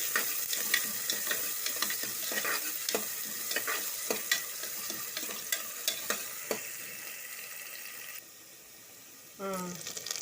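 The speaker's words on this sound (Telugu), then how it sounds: "ఆయిల్ వేడెక్కిన తర్వాత ఉల్లిగడ్డ వేయాలి. ఇట్లా కలుపుకోవాలి." Onions sizzle in hot oil for ivy gourd curry while a spoon stirs them, giving a loud crackling fry with repeated scraping strokes that fade toward the end, followed by a brief voice.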